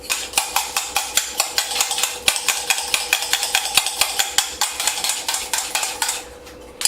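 A fork whips Cuban coffee foam in a cup with a fast, even run of bright metallic clinks, about thirty strokes, close and loud, fading out at the end.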